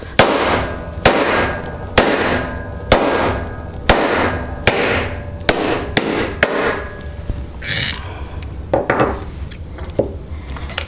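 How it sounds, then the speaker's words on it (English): A hammer strikes a disc cutter punch to cut a metal disc for a shadow box pendant, about a dozen loud, sharp metallic whacks in a steady rhythm, close by and ringing briefly. "So we're going to give this a good couple of whacks, get this through."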